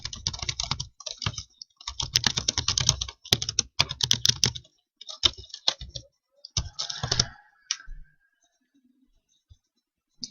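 Fingers type a letter on a computer keyboard in quick bursts of close, crisp key clicks separated by short pauses, ending in silence.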